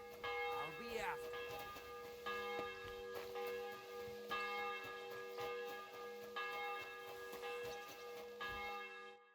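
Repeated video game bell rings in a bright, harmonic series, struck several times at roughly even intervals over a low background hum, with faint voices underneath.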